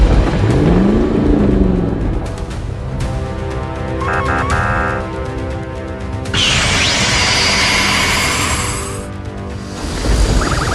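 Animated fire truck lifting into the sky on jet thrusters in a children's cartoon: loud whooshing engine roars and revving bursts, with a rising whistle and layered effects shifting over about ten seconds.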